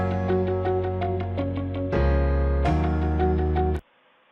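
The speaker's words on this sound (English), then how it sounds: "I just added some inspirational music while the student reads this dialogue" Inspirational background music for an e-learning dialogue scene, a steady melodic piano-like passage with sustained chords that shifts partway through and stops abruptly near the end, with no voices.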